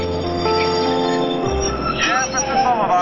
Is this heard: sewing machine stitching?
no